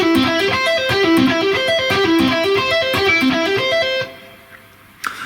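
An electric guitar plays combined string-skipping arpeggios in a fast, evenly picked repeating pattern for about four seconds, clear and up front. It then stops, leaving quiet, followed by a short thump.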